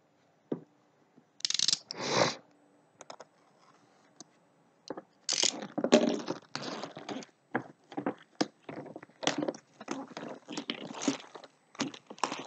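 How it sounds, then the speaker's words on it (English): Vacuum-sealed plastic packaging around a Dye i5 paintball goggle being torn open, giving bursts of crinkling, crackling and tearing after a quiet start, growing busier toward the end. "It comes packed in this manner, vacuum packing, and just gonna open this up so that we can show you what's in there."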